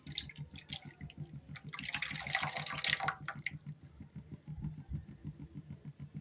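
Blended wheat mixture for halwa poured into a pan, giving a soft splashing, liquid rush that swells for about a second, over a faint repetitive low pulsing background.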